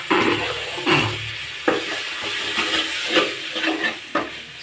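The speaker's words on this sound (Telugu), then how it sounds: "కడిగి పెట్టుకున్నటువంటి చికెన్ వేసుకుందాం." Chicken sizzles in a pan with ginger and garlic, a steady frying hiss broken by several sharp stirring scrapes at irregular intervals.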